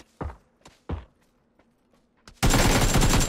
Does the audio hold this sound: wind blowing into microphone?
no